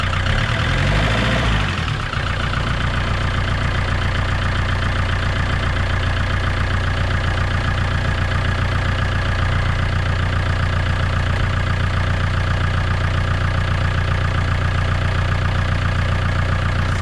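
An Iveco 35-8 tow truck with a failed clutch sits idling. Its diesel engine drones loud and steady throughout, with a brief rougher burst at the very start and no voices over it.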